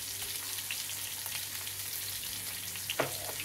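Black cumin and black pepper fry in hot oil with a steady, even sizzle and a single sharper clink near the end, close by and fairly quiet, with no voices.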